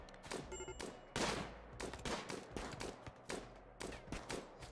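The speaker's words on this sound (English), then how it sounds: "Now all 3 are firing on Fabio" Rifles fire in rapid bursts in RimWorld, a dense run of sharp cracking shots from several guns at once, loud and close, with brief gaps between volleys and no talking.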